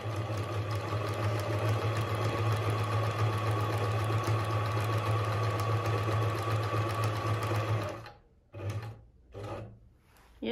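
A Pfaff Hobby 741 sewing machine stitches a buttonhole with a steady, close mechanical whir that runs for about eight seconds, then stops and restarts in a few short bursts.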